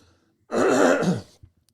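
A single rough throat-clearing cough, close and brief, in an otherwise quiet moment.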